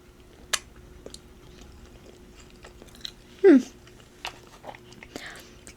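Close, soft bites and chewing of food dipped in ranch dressing, with scattered quiet crunches and mouth sounds and one louder bite near the middle, in a quiet room with no talk.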